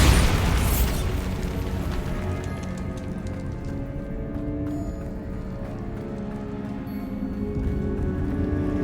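A Bombarda spell explosion in Hogwarts Legacy, with a loud booming blast up front and a long rumbling, crackling tail of falling debris that slowly settles but stays present.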